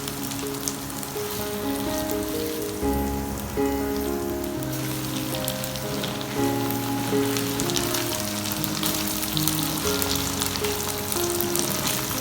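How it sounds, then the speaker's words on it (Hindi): Onions fry in a pan, giving a steady, soft sizzle that runs throughout beneath a sustained tonal musical backing, with no talking. "प्याज हमारा फ्राई हो रहा है।"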